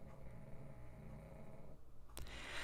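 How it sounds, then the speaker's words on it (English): A dog snores in slow, low rumbling breaths, close and quiet, ending with a brief sharp noise, no talk. "My dog is snoring terribly."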